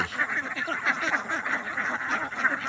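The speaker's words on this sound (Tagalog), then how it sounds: "marami na yan ang aking mga alagang itik" A flock of domestic ducks quacks continuously nearby, many overlapping nasal calls forming a busy, steady chorus.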